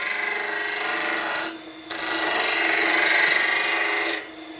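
A skew chisel's toe cuts into a spinning epoxy and timber dragon's egg on a lathe, giving a steady, close, hissing scrape that breaks off briefly near the middle and drops lower at the end, with no voices.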